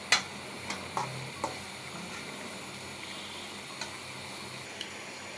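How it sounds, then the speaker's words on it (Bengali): Hilsa fish is sautéed with vegetable stalks, potatoes and ground spice paste in a pan, giving a steady low sizzle broken by a few sharp spatula taps early on, close and fairly quiet, with no talk. "আগে ডাঁটা আর আলুটা মাছের সাথে একটু কষাই নেব।"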